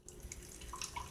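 Water runs from a kitchen faucet into a sink during pen cleaning, a steady close hiss of flow with small splashes and drips, heard alone for about a second.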